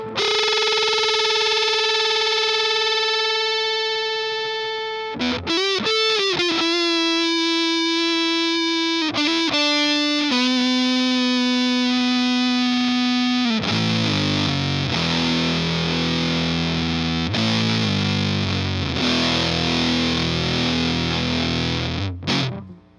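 Distorted electric guitar through a Tight Muff fuzz pedal, a modern Big Muff version, loud and continuous, with sustained buzzing notes, quick wobbling bends and aimless noodling throughout.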